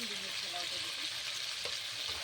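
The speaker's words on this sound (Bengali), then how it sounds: "এখন মাংস পেঁয়াজ দুটো একসাথে ভাজা হবে ভালো করে। লবণ হলুদ দিয়ে ভাজবো এখন।" Chicken pieces and onion frying together in a pan with salt and turmeric, giving a steady close sizzle with occasional stirring scrapes, no talk.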